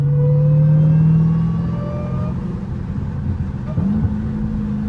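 A 900-horsepower Hellcat accelerating with its supercharger whine rising as a loud, close tonal wail over a deep engine rumble, heard from the cabin, easing after the first second and climbing again near the end.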